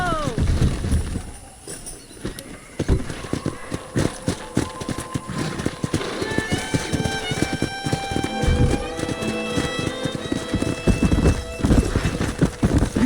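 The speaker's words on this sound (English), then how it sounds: "That ranch hand said there's a pack of wild horses nearby." Wild horses in Red Dead Redemption galloping with rapid hoof clip-clops, several loud neighs and whinnies rising over the thundering run, game music and effects mixed in.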